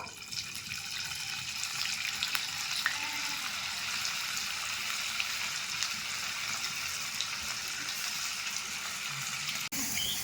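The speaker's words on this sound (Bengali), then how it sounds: "একইভাবে আমি এগুলোও ভেজে নেব" Cauliflower manchurian pieces deep frying in oil, giving a constant hissing bubble at moderate level, broken once by a brief sharp click near the end.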